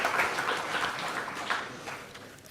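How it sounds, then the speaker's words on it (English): An audience at an awards ceremony during an annual general meeting applauds an award winner, a continuous moderate patter of many hands with a few louder claps, slowly easing off. "Please can we have a huge round of applause for Zaira Gina for her award on community building"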